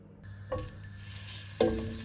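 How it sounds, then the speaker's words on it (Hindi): Vegetables cooking in hot butter in a pan, with a soft steady sizzle and two louder bursts as food is stirred or added, close and alone without talk. "तो ये बर्तन में मैंने बटर डाला, बटर के साथ बटर जैसे ही गर्म हो गया तो वेजिटेबल डाल के इसको सिर्फ 2 सेकंड पकाना है बस।"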